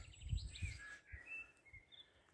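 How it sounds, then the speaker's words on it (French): Birds sing along a forested walking trail on the Camino stage from Roncesvalles to Zubiri, several faint thin whistled phrases and trills at a distance, over soft footsteps and low rustling. "Et on marche au son des oiseaux"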